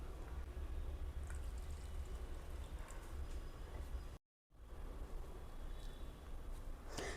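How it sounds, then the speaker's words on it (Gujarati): Water is poured steadily into a yogurt and moraiyo millet batter for crispy farali snacks, a continuous broadband splashing that runs with one brief break near the end. "હવે બાકીનું આપણે પાણી નાખશું."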